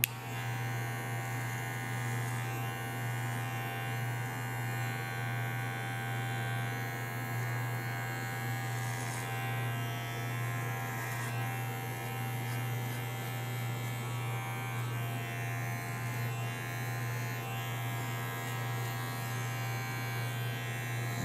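An electric hair clipper cuts a man's short social-style haircut, giving a constant close buzzing hum that runs unbroken throughout, with no speech.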